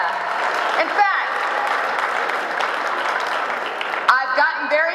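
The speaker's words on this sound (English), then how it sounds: "Give yourselves another round of applause." A crowd of people at a Relay For Life cancer fundraiser applauds loudly and steadily throughout, and voices call out over the clapping near the start and end.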